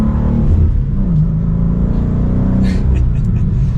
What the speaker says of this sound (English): So hopping in the M2 to drive it around.